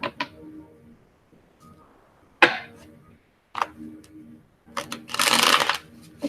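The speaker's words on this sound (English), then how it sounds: "I was trying to shuffle the opposite way." Tarot cards are handled and shuffled up close in several short bursts of riffling and snapping, ending in a longer, louder shuffle, with quiet gaps between them.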